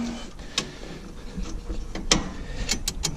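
A wrench works a 9/16 bolt on a machine's belt release, making a series of sharp metallic clicks and ratcheting ticks in irregular bursts, close and fairly loud, with no talking.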